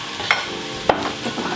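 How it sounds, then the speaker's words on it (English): A tofu scramble with turmeric and other seasonings sizzles softly in a pan while being stirred, with a couple of sharp spatula scrapes standing out over the steady frying hiss. "and then we're just going to mix it together"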